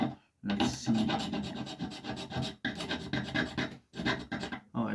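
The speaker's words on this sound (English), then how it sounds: "I'm just going to start scraping the gripping paint off" A scraper drawn over the paint on the wooden handle of an Adler Rheinland hatchet makes close, loud, rasping strokes in quick bursts separated by brief pauses.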